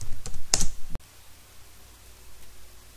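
Quick keyboard typing on a computer, a short flurry of close clicks lasting under a second, then near silence with faint background hiss.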